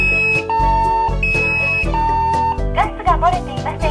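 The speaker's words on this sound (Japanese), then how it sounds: "火事です、火事ですと音声で知らせるタイプがあります" A residential fire alarm in a Japanese home sounds steady electronic tones that step between pitches, then a synthesized voice speaks its warning near the end; the signal is loud and close throughout.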